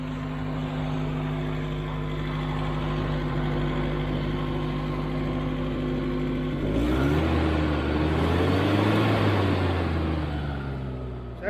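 Small tractor engine idling a little high, a steady near humming drone that later shifts into a rougher, rising and falling rumble.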